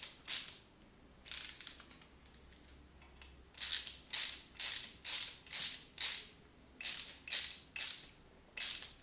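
Screws on a P3Steel Prusa Mendel 3D printer frame being tightened, a tool clicking in quick ratcheting bursts, several short runs then a steady series of evenly spaced strokes, close and clear with no talk.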